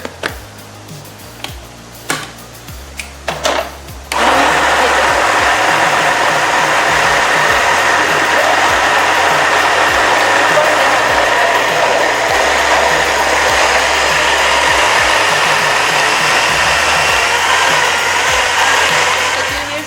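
A mixer grinder roars loudly and continuously while grinding a chicken haleem mixture with dal, starting abruptly after a few seconds of clicks and handling noises, then running close and unbroken until the end.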